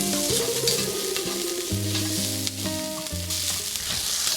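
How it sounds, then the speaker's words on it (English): Tomato puree being stirred into vegetables frying in a pan, a loud, steady close sizzle with stirring motion and background music tones underneath, no voices. "So we're gonna stir that right in with all of these vegetables. And cook that for about a minute."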